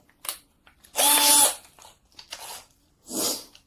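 A power drill driving a drum sander attachment whirs in several short bursts with gaps between them, nearby and fairly loud, plus small handling clicks.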